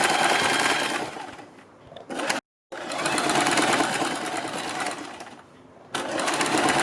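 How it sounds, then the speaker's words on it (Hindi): A sewing machine stitches a fold on a short kurti in quick bursts of loud whirring, pausing briefly between runs and then starting again. "हम इसके ऊपर भी सिलाई लगा देंगे।"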